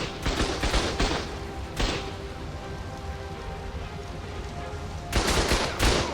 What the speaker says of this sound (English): I'm being shot from all kinds of places